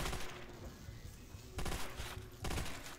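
Machine gun fire from an MG42 or Browning light machine gun in Call of Duty: World at War zombies, three sustained bursts of rapid shots separated by short pauses, fairly quiet.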